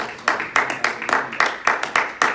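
A church congregation claps in a steady rhythmic beat, about two claps per second, close and moderately loud, with faint voices underneath.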